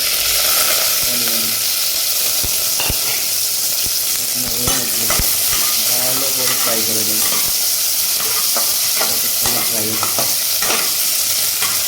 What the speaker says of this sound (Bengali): পাঁচফোড়ন যেটা করে একটু ওয়ান স্পুন দিয়ে দিচ্ছি আমি